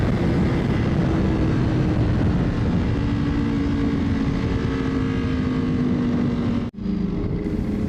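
Superbikes cruise together along a clean highway on a group ride, their engines a steady loud drone with wind roar that holds for several seconds, a slow pitch glide, then a short sudden drop before the roar resumes.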